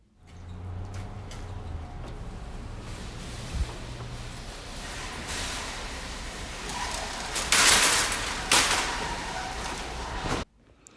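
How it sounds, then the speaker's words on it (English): Automatic doors slide open amid a steady hum of Kroger supermarket ambience, followed by a metallic rattle and clatter as a shopping cart is pulled free. "that was my soundscape of doors opening and someone grabbing a cart"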